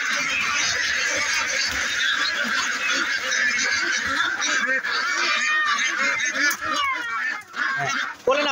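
A crowd of ducks or geese honks and quacks loudly and without a break, close by. The calls overlap densely for the whole stretch, and faint human voices mix in.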